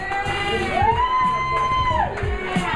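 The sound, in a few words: crowd in building cheering and applauding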